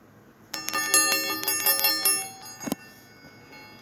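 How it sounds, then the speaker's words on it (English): Metal meditation balls with chimes inside are rolled in a hand, giving a quick cluster of bright ringing tones and jangles in a quiet room, close and fairly soft. "These meditation metal balls with this chiming sound in them."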